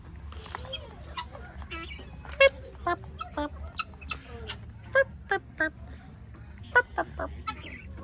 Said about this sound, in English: A very noisy bird. A guinea?